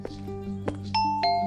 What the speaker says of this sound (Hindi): निधि के रूम के बाहर गया और डोरबेल बजाई।